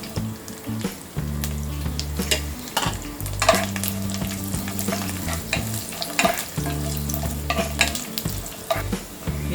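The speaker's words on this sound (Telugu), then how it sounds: "కొన్ని క్యాష్యూనట్స్ ఉంటాయి, కాజు కూడా ఉన్నాయి, ఇది కూడా మనం రోస్ట్ చేసేద్దాం." Cashews and dry fruits roasting in a pan on a gas stove while moong dal halwa is made, steady sizzling with repeated scraping stirs of a spoon against the metal, close and continuous with no talk.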